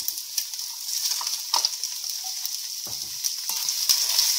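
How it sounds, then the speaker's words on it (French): Beef and sliced onions frying together in a pan for romazava, a bright steady sizzle with crackling pops and a few scraping stirs of a utensil, close and uninterrupted by speech. "donc on mélange bien les oignons avec la viande et on va laisser cuire ensemble"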